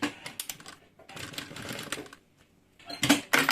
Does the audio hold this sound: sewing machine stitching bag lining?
yes